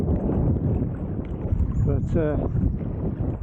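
Strong wind buffets the microphone beside Haweswater lake during rain, a constant loud low roar under someone speaking.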